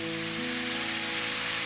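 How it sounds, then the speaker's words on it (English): Steady, dense sizzling of pork ribs frying in hot oil with vinegar added fills the clip, with a faint low hum underneath and no talking. "While frying it, I add vinegar."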